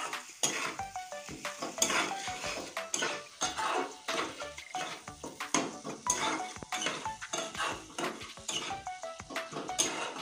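Masala spices are stir-fried in a pan with steady scraping and clanking of a metal spoon against the pan and a soft sizzle underneath, in a continuous busy rhythm with no voices.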